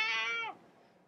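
A domestic cat lets out a single drawn-out meow, close and clear, which fades into quiet room tone after about half a second.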